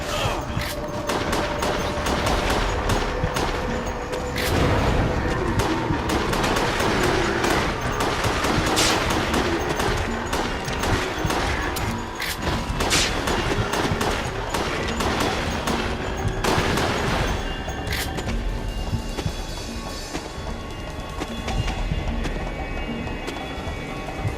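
Gunfire from the rail shooter Resident Evil: The Darkside Chronicles rings out in dense, rapid bursts and volleys over busy game ambience, continuing steadily throughout.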